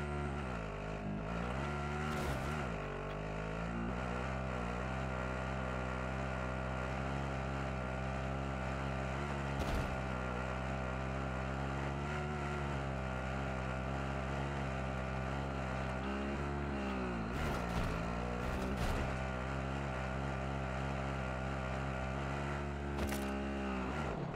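Vehicle driving in the video game Call of Duty: Modern Warfare Plunder mode, a loud, steady engine drone that holds throughout with slight pitch shifts and a few brief sharp clicks, continuous and close.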